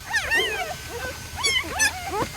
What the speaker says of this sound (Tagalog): Inyong naririnig ang mga munting tinig ng mga bagong aso ng supero